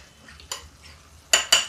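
Sour curd and spices are whisked in a bowl for a tinda dish: a few sharp, bright scraping and clinking strokes, close and loud, with quiet gaps between them.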